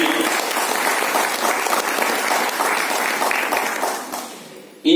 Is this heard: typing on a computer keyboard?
no